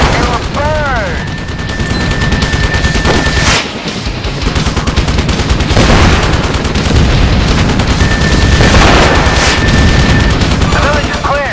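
Gunfire and explosions in the helicopter combat video game Thunder Wolves: loud continuous machine-gun fire and booms, with whistling tones and voices shouting over the battle throughout.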